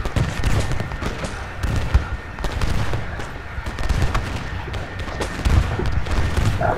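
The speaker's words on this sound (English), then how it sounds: "Biddle opening fire." Massed musket volleys in a Union versus Confederate Civil War battle game, a dense rolling crackle of shots with occasional heavier booms, continuous and fairly loud across the whole stretch, with no talking.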